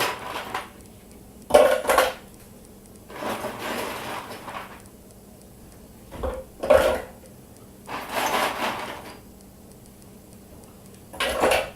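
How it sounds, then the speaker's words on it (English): Ice cubes dropped into a blender jar for a diabetes-friendly smoothie, a few sharp clattering bursts of cubes striking the container, close and fairly loud, separated by short quiet gaps. "I'm now going to add ice to this, and I'm going to add it a little bit of ice initially."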